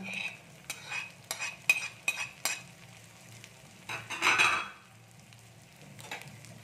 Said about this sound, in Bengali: এবার এর মধ্যে আমরা বিনস যেগুলো ভেজে রেখেছিলাম সেগুলো দিয়ে দেব।